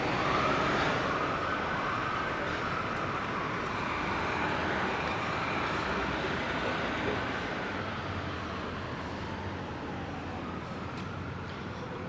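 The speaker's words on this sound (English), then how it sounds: "You guys want to see the random police car race to somewhere." A police car races down a Manhattan street with its siren wailing, a rising and falling whoop over steady traffic noise that fades slightly toward the end.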